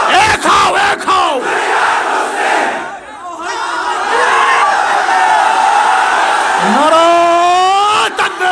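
A large crowd at the Charmonai rally ground chants the takbir in loud, massed unison, the roaring calls rising and falling in waves and swelling again toward the end.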